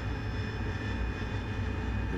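An AV-8B Harrier jet descending in the DCS flight simulator gives off a steady, loud engine roar with a low rumble underneath, holding constant throughout with no voices.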